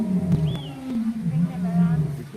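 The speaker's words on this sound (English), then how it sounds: "we've got our male lion tribe announcing the day" Male lions roar in low, drawn-out rumbling groans, heard outdoors at a moderate distance, steady and resonant, with faint background sounds.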